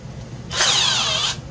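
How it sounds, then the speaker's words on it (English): A short burst of a power drill whirring at high speed for under a second, starting and stopping abruptly, as a nail chucked in the drill is spun. "put it in a drill."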